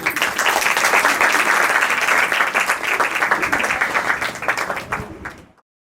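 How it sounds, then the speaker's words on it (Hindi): Audience applause for a children's Ganesh Chaturthi play, dense and steady clapping from a crowd that holds loud for about five seconds, then thins and stops abruptly. "आप सब बच्चों का प्रोत्साहन करने के लिए एक बार सब तालियां बजा दीजिए"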